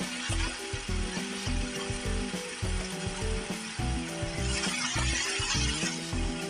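Masala paste sizzles and fries steadily in a pan for a mushroom curry, a dense continuous crackle with occasional stirring scrapes, close and fairly loud throughout.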